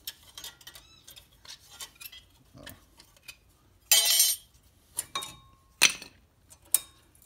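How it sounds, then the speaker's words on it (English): Brake pads come off a Hyundai Sonata caliper in sparse, sharp metallic clinks and taps, with one louder scraping rattle, all close against a quiet background. "Bring the caliper over here. Remove the brake pads."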